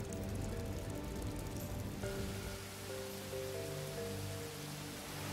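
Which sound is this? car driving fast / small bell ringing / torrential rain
torrential rain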